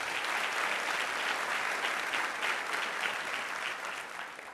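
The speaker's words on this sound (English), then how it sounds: "So give her a round of applause" At an educator symposium keynote, an audience gives a round of applause, a dense and moderately quiet rattle of many clapping hands that holds steady before tapering off at the end.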